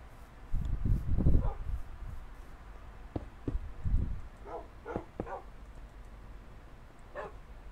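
Puppies in the Minecraft video game barking, with several short yips and barks scattered through the stretch, the louder ones clustered near the start, over a low game background.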